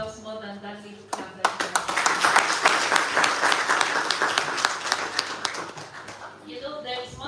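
Louder audience applause at a schools debate championship final in Cameroon, sustained dense clapping for about six seconds, building after a quiet start and easing at the end, with a voice heard briefly at the edges.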